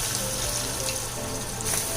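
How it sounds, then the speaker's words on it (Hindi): About half a litre of water pours and splashes steadily into a pot of khichdi, a continuous trickling wash that runs alone without talk. "करीब आधा लीटर पानी डाल रही हूँ मैं"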